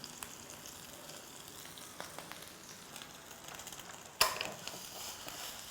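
Boiled chopped prawns and a little spring onion frying in a pan, a soft steady sizzle with a few scraping stirs and a sharp clatter near the end, no one talking.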